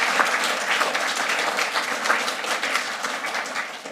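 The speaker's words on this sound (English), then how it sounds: "Will you give them a round of applause?" An audience at a livestreamed literary festival talk gives a steady, dense round of applause that fills the whole stretch without a break.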